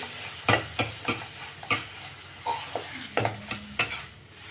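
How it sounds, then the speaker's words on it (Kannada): Tomatoes fry in a pan for a radish gojju while a spoon stirs them, giving a low sizzle broken by regular scraping strokes about every half second, close and moderately loud. "ಈಗ ಟೊಮೆಟೊ ಚೆಂದಾಗಿ ಫ್ರೈ ಆಗಲಿ."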